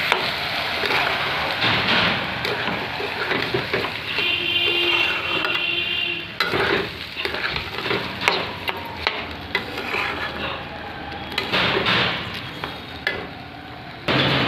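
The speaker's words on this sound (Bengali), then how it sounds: "গোবিন্দভোগ চাল আমি ধুয়ে শুকিয়ে রেখেছি, এটা দিয়ে দিচ্ছি তেলের উপর।" Gobindobhog rice being stirred and fried in hot oil in a pan, a steady close sizzle with repeated scraping stirs of a spoon against the pan throughout.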